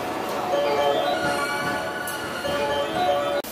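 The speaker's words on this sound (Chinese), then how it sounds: "电车来了。" A local commuter train arrives at Osaka station, a loud steady rumble of wheels and carriages filling the platform, with a faint murmur of people nearby.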